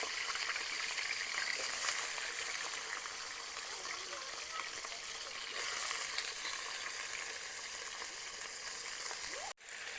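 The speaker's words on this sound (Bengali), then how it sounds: "তেলটা ভালোভাবে গরম হয়ে যাক, তারপর আলুগুলো দিয়ে ভেজে নেব।" Washed new potatoes frying in hot oil in a pan give a steady, close hiss and crackle that continues throughout, with a brief clatter near the end.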